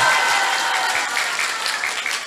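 Loud, dense audience applause for singers at a live music show, a steady wash of many hands clapping close by with no voices over it.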